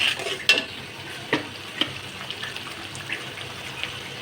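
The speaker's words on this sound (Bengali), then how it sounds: "এই এটা আপনাকে ভালোভাবে কষাতে হবে যেন মশলার গায়ের গন্ধটা না থাকে" Spice paste for a green jackfruit korma is stirred slowly in a pan over low heat, soft scraping strokes with a few sharper clinks over a faint, quiet sizzle.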